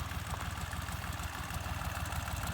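A tractor engine idles steadily, close and loud, with a low rhythmic chugging throb and a continuous rumble that holds even throughout, with no speech.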